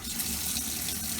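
Water gurgles and runs from the hot water tap of a motorhome as the pump brings the system up to pressure and air clears the line, a steady close flow lasting about a second.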